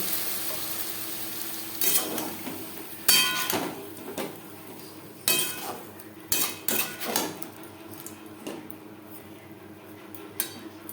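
Potatoes and pointed gourd are stirred with spices in a pan, with a spatula clanking and scraping against the metal in irregular bursts over a low background hiss.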